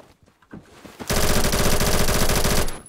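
An AK107 rifle fires in a video game: after a few faint taps, a long, loud, rapid automatic burst rattles on steadily for about a second and a half, then stops abruptly.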